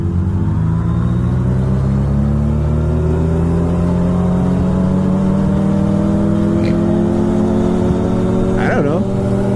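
A motorcycle rides along a road on a trip to get food, its steady engine rumble and whir running loud and close throughout, with a brief pitch rise near the end as the revs climb.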